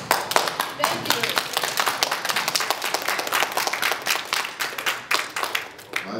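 An audience at a public Montana Fish, Wildlife and Parks meeting claps steadily and loudly, with many hands blending into a continuous close patter that thins slightly toward the end.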